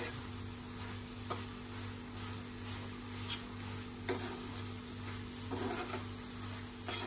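Mawa cooking for kesar mawa modak, stirred steadily in a pan with a soft continuous sizzle and occasional scraping knocks, fairly close and alone without talk.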